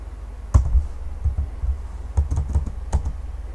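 Python code typed on a computer keyboard, a close run of uneven key clicks and taps in short bursts, alone without talking.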